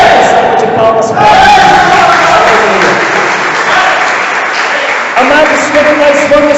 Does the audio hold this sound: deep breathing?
no